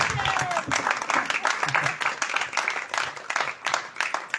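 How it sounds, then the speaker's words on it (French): A live audience applauds together, a dense, steady patter of clapping that fills the room throughout, with a loose rhythm and a few voices mixed in underneath. "On peut applaudir Michel."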